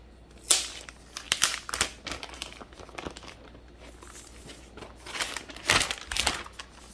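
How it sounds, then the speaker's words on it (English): Plastic protective film being peeled off a new rose-gold Microsoft Surface Laptop 4, giving close crinkling and crackling bursts in short irregular pulls, with no talk. "All right, let's peel this off."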